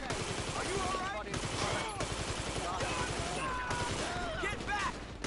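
Gunfire in the video game GTA V crackles in dense, rapid bursts, automatic weapons and single shots overlapping loudly and continuously, with brief shouted voices in between.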